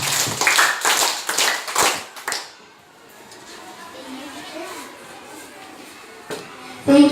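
Scattered clapping from a school class debate audience for the chairperson, a few loud close claps at the start, then quieter room noise with faint murmuring.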